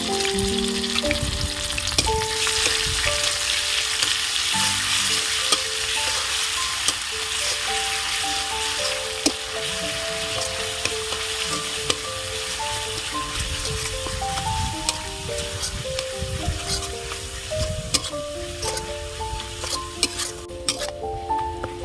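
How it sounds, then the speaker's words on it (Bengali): Onion and garlic paste fries in oil with cardamom and cinnamon, a loud, dense, continuous sizzle with occasional clinks of stirring and a tonal hum running underneath. "পেঁয়াজ রসুনটা সামান্য একটু নেড়ে ভেজে নিয়েছি"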